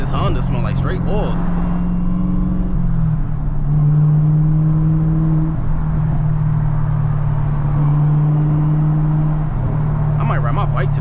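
A Camaro ZL1 with a 6-speed manual rumbles steadily through a small town, its engine note droning and shifting pitch as it accelerates and settles, loud and close throughout.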